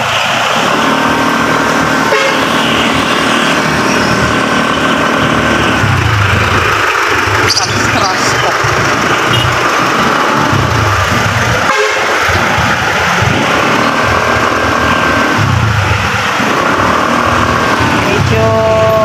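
Slow road traffic near Cabuyao, Laguna, with car engines running steadily and several car horns honking at intervals. Loud and close, with occasional voices in the background.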